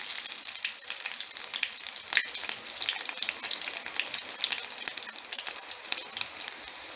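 Mustard seeds and crushed garlic fry in oil for a mushroom curry, giving a steady, fairly loud sizzle with scattered crackles and pops that runs unbroken throughout.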